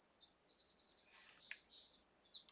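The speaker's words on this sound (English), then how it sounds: "I hear a pretty bird outside." A small bird sings outside, faint and distant: a quick trill of high, repeated notes followed by a few scattered chirps and whistles.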